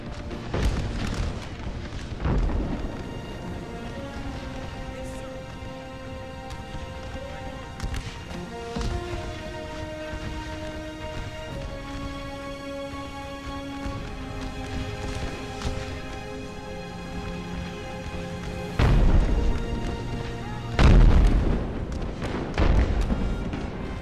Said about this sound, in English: Oh, they're getting pounded by artillery.